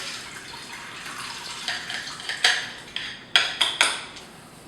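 Soaked, thrice-rinsed rice being drained of its water, heard as a soft watery trickle with a few sharp clinks of pots or dishes toward the end, close by and with no talking.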